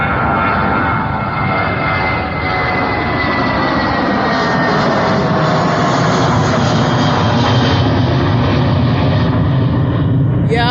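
A JetBlue jet airliner takes off at Fort Lauderdale airport with a loud, sustained engine roar and broadband rumble that holds steady throughout, heard from nearby outdoors.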